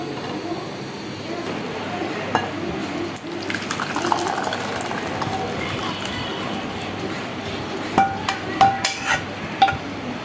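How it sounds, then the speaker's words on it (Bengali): Cooked mango dessert mixture, a milky blend, is poured from the pan into a bowl, a soft continuous pouring and splashing with light clinks near the end, close by. "চুলাটা আমি বন্ধ করে দিয়েছি এখন বাটিতে ঢেলে দিব এটাকে"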